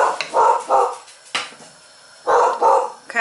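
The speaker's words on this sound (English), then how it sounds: "I have dogs. They're barking." Dogs bark in a home kitchen in short, loud bursts close by: two quick barks, a sharp single yelp, then another pair, with quiet gaps between.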